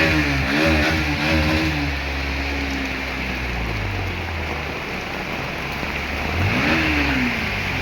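Vehicles drive through a flooded road in heavy rain, with continuous rain noise and splashing over engine drones whose pitch rises and falls as each one passes nearby, one at the start and another near the end.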